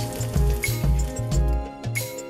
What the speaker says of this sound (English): Then add your salmon sliders. Cook 4 to 5 minutes on medium to low heat.